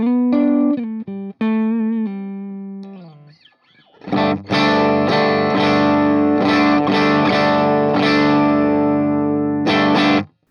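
Electric guitar through a Dr. Z Stingray amp with an open-back 1x12 cabinet, a few clean single notes and bends, then a brief pause and loud, ringing strummed chords repeated steadily, up close with no talking.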